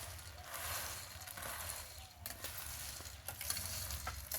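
Fried boondi pearls being stirred into thickened milk over a very low flame, a soft steady scraping and stirring with a faint continuous sizzle-like hiss, close and moderately quiet, no voices.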